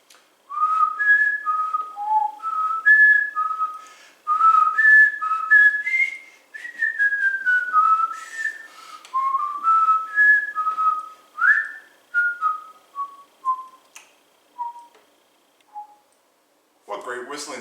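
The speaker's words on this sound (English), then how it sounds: "What great whistling skills." A person whistles a lively, bouncing melody in short repeated phrases, clear and close, ending with a few slower descending notes.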